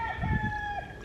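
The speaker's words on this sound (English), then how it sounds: "the chickens are like," Chickens cluck and call outdoors in the rain during an ice storm, a few short close clucks over a steady wash of rain and a faint high whine.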